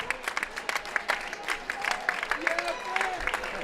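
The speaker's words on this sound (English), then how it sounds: "I'm going to applaud for him as well." Crowd applauding in a high school basketball gym, steady scattered clapping through the whole moment, with a commentator talking over it.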